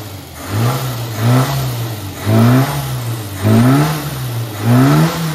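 A Ford Anglia fitted with a Weber carburettor revs repeatedly, four rising blips over a steady idle, close and loud, each climbing then settling back down.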